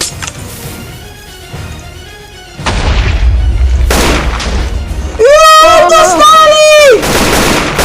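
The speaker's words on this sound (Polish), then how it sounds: "Dobra, rzucam granat! Rzuciłem!" Booms and gunfire from a military base attack in the video game Minecraft, with a loud blast rising partway through, followed by a held tonal whine, all under excited talk.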